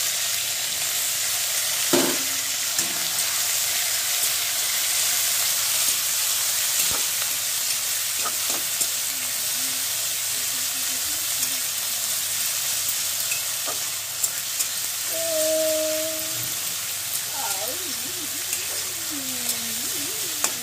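Chopped tomato pieces hit hot oil in a home-kitchen pan and fry with a steady sizzle, stirred now and then with a few brief utensil knocks, close up and with no talking.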